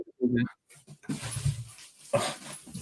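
A dog whimpers indoors in a few short, soft whines, with faint shuffling and a brief rustle between them and no other voices.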